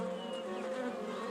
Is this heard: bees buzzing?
yes